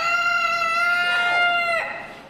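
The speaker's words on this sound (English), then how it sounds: "when was the last time you saw a chicken that was alive?" A rooster at a county fair crows loudly and close in one long drawn-out call that trails off at the end, with no talking over it.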